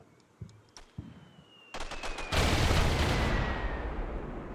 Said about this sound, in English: the cluster bombs dropping in, combined with all the small arms fire